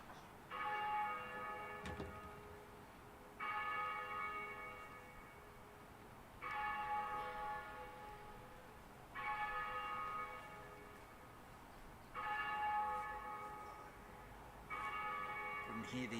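Church bells ring out in repeated bursts about every three seconds, moderately distant, over a quiet background murmur during a cricket match.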